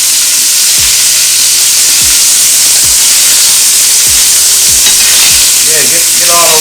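Spareribs for Chinese barbecue sizzle loudly as their sides are seared in a hot pan, a steady close hiss broken by a few sharp scraping stirs, with no talking.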